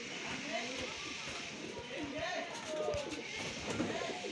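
Kalduma pigeons coo softly in a loft among other fancy pigeons, faint murmuring calls under a steady hiss of background noise while someone talks nearby.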